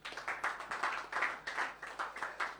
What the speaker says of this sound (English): So if you're here tonight, give yourself a round of applause for witnessing this